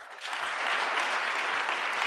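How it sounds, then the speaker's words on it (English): Steady applause rises after a brief pause and holds evenly, coming from only one side of the audience at a Maine State of the State address, with no voices over it. "Only one side is clapping."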